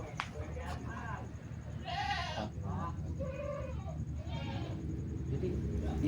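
A goat bleats several times, with wavering calls spread a second or so apart, over a steady murmur of outdoor background noise.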